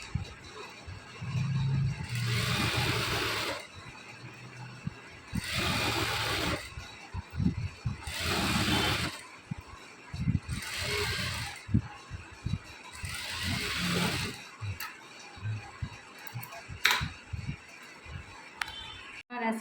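A sewing machine stitches kurti fabric in repeated loud bursts of rapid whirring, each lasting a second or two, separated by short pauses with faint handling noise, close by.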